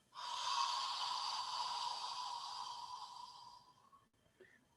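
A long, deep exhale follows a full breath into the lungs and abdomen. It is one smooth, airy breath lasting about four seconds, close and fairly quiet, and it fades out at the end.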